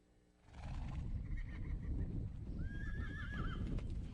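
Horses at a horse rescue ranch whinny amid steady hoof clip-clop and outdoor bustle, one wavering neigh rising clearly near the end, with no voices.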